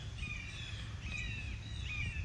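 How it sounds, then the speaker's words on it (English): A crow-like bird caws several times against faint outdoor background noise, at a distance and fairly quiet, with no talking. "Did you hear that bird?"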